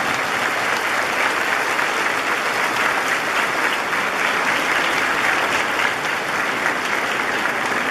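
A large crowd at a church service claps steadily and loudly for several seconds, a dense sustained applause without pauses.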